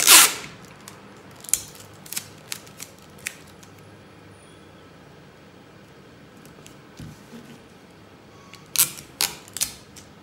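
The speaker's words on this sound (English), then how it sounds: "I'm going to be taping it down." Tape being pulled and pressed down onto a paper pattern during corset pattern drafting, with scattered sharp ticks and tearing bursts, a cluster at the start and another near the end, close with no talking.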